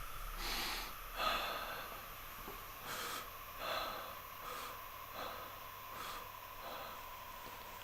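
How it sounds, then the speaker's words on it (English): Forceful rhythmic breaths of a qi breathing exercise, sharp nasal exhalations and gasping inhales repeating about once a second, close and fairly faint, with no talking. "So these are forceful breaths."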